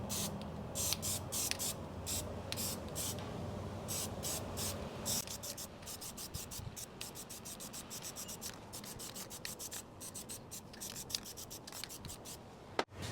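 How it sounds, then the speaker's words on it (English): Copper gasket sealant sprayed from an aerosol can onto both sides of a gasket during repair of a 1962 Cadillac Jetaway transmission, several short hissing bursts up close followed by a run of quick rapid sprays. "So I'm going to put some copper spray gasket on here on both sides of this gasket."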